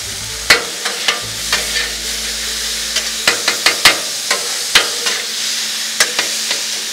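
Beef sizzles steadily on a Blackstone flat-top griddle while spatulas scrape and clack against the steel in repeated sharp hits, close and fairly loud, with no talking.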